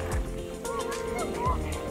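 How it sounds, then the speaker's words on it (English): Ducks, mallards among them, calling as a group draws near outdoors, with short quacking and honking calls over steady background noise, fairly close. "Look at all the ducks over there coming, guys."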